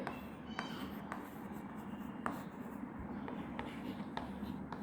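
Faint scratching of a pen or pencil writing numbers by hand on paper, with short quick strokes and small taps in a quiet room.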